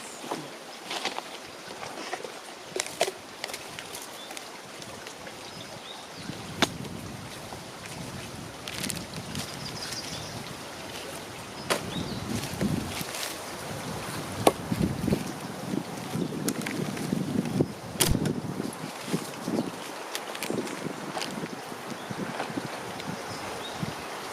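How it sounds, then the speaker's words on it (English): Wind gusts buffet the microphone outdoors in a garden, with a continuous rushing roar that rises and falls. Sharp crackling bursts come through at close range, and no voices are heard. "ooh, that wind"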